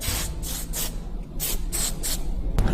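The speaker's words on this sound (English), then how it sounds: "I'm going to put a little bit of sheen spray on my comb." Short repeated bursts of sheen spray from a pump bottle misted onto a comb during a relaxer hair service, about six quick hisses in an even rhythm, close and clear.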